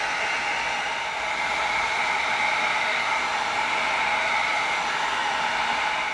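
A heat gun blows hot air to heat seal EVA foam for a prop tomahawk, a steady loud whooshing hiss held continuously without pause.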